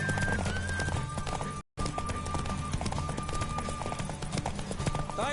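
Hooves of a galloping horse from The Witcher 3 pound in a fast, steady clip-clop, close and loud, with a brief whinny in the mix and a momentary dropout partway through.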